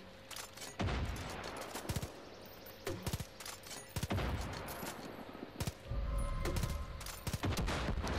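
Machine gun fire in the video game Far Cry 5 rattles in repeated bursts throughout, dense loud volleys with short gaps between them.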